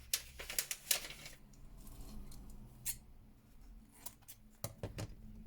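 Scissors snip through craft material for a layered tag, a few close, crisp cuts early on followed by fainter scattered clicks and handling noises in a quiet room.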